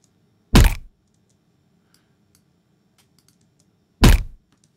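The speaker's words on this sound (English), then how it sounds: "That's a good, decent nose break." A designed punch sound effect for a nose break, two isolated heavy thuds with a crunchy crack, several seconds apart, in near silence.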